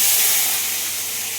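Garlic, ginger, onion and tomato paste hit hot frying oil for a fish curry, giving a loud, steady hiss that eases a little as the sizzle settles, with no voices.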